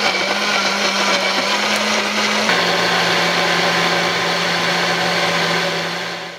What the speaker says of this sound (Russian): Так вот, и начинаем измельчать.